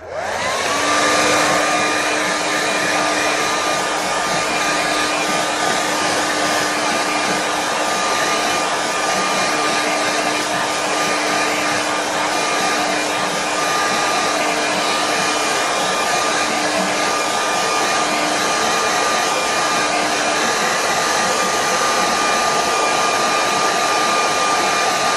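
A hair dryer blows steadily at close range for a long stretch, drying a painting with a constant loud whooshing hum and a faint whine.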